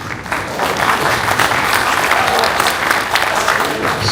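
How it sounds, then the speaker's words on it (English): A gala audience in Chicago breaks into loud, sustained applause, a dense close wash of clapping from many hands with a faint murmur of voices underneath. "Please, round of applause for our President Hemant Patel."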